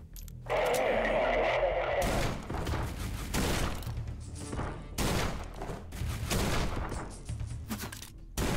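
Loud, rapid bursts of gunfire from the video game Forgive Me Father 2, a Lovecraft-inspired boomer shooter, come in several heavy volleys with short gaps between them, mixed with dense game effects.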